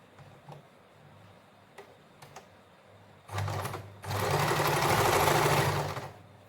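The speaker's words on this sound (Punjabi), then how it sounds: "ਇਹਦੀ ਸਲਾਈ ਲਾਵਾਂਗੇ" A sewing machine stitches a pocket onto a salwar, with a few soft ticks at first, then a short run of stitching and a longer, louder steady whir. There is no talk.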